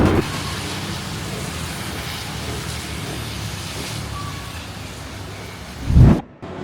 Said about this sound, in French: ça a été le déluge d'un coup en 5 secondes